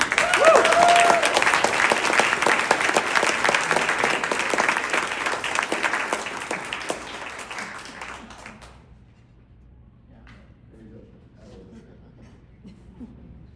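Audience at an award ceremony applauds as a medical speaker is welcomed to the podium: dense, sustained clapping from a large crowd that tapers off and stops after about eight seconds, leaving near silence.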